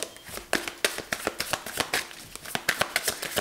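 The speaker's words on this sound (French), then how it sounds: "on va continuer maintenant notre tirage avec le tarot" Tarot cards are shuffled by hand, a rapid run of crisp papery riffles and slaps, close and steady for a few seconds with no talk.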